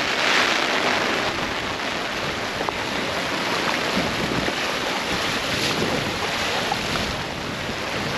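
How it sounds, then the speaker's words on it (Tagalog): Strong wind and heavy rain in a flooding area downstream of a dam make a dense, steady roar and hiss with constant rushing and no pauses. "Malakas po hangin at ulan."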